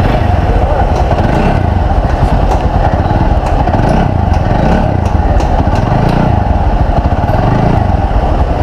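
A 2016 TVS Apache 200 motorcycle with 50,000 on the clock idles steadily nearby, its single-cylinder engine throbbing loud and even throughout with a rapid mechanical putter.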